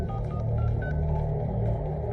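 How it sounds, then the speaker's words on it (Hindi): Telephone keypad tones as a number is dialed, a quick run of short beeps over a low background hum, fairly faint, with no speech. "नागेश को फोन लगाओ"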